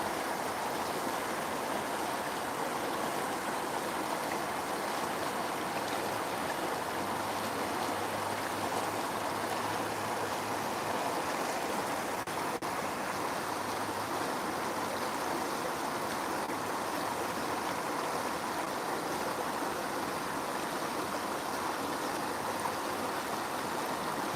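Steady rushing water from a stream swollen after heavy rain, a continuous broadband roar at moderate level with no talk over it.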